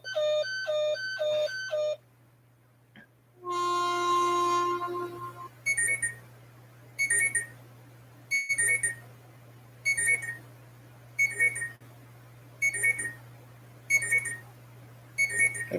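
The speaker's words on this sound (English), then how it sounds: "And a power plant alarm?" Electronic alarm tones from a power plant: a short burst of pulsed beeps, then a sustained multi-tone blare, followed by a steady repeating series of loud beeps, about one per second, over a constant low hum, with no talking.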